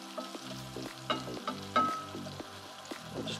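Chopped medium-sized onion frying in a pan over medium heat for chicken bunny chow, a close, steady sizzle with crackles and stirring scrapes.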